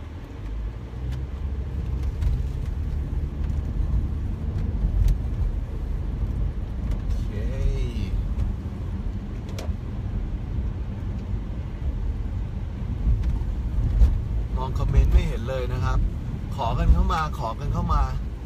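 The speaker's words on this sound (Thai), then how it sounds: "ตอนนี้รถวุ่นมาก" Busy road traffic with cars and buses rumbling steadily nearby, engines droning continuously under occasional talk from people in the clip.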